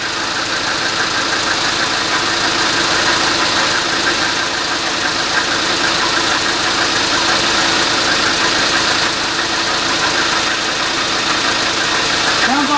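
An auction-bought Dodge Magnum with very bad oil idles steadily with a slight tick, giving a constant, close mechanical rumble for the whole stretch.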